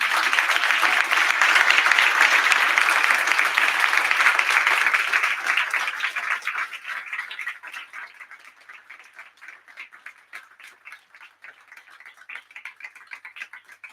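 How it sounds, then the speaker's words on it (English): Loud audience applause at a ProductTank meetup in Oslo, dense clapping that holds strong, then thins out into scattered claps toward the end. "give the warmest applause possible"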